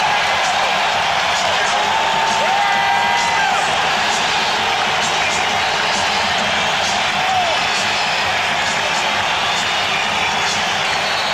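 A loud crowd at Chicago Stadium roars steadily during a 1991 NBA playoff game between the Bulls and Knicks, with whistling and whoops rising over the continuous cheering.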